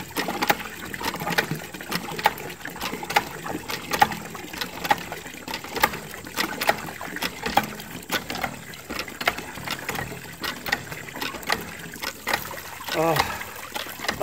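Water trickles and splashes from a repaired hand well pump at a cabin, a continuous close pattering with irregular bursts, heard under people talking.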